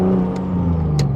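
Loud, steady engine drone from a turbocharged BMW E36 with a swapped ZF 8HP automatic, held at revs with a slowly falling pitch and a couple of brief high whooshes over it.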